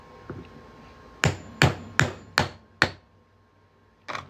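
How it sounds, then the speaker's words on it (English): Sharp metallic hammer blows ring out close by as a half-inch punch is driven through a 1958 quarter coin, a single tap followed by five evenly spaced strikes and one more after a pause. "we get our 1/2-inch punch and just hammer this right on through here"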